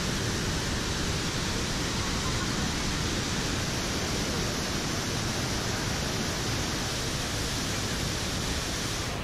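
Iguazu Falls waterfall roaring from up close, a dense, steady wall of rushing water that stays loud and unbroken throughout with no voices.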